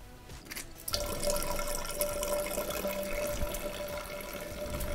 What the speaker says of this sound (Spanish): y abrir el grifo.